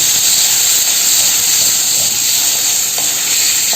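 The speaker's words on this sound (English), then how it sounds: "I just add a teaspoon of water in, and you can hear it sizzle" Spices sizzle loudly in a hot pan just after a teaspoon of water goes in, a close, steady, hissing crackle with steam that holds unbroken and alone.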